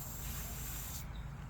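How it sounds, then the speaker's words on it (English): An aerosol spray can hisses steadily up close during work on a John Deere D130 mower wheel, a continuous airy spray about one second long before it cuts off. "grab the can of spray there"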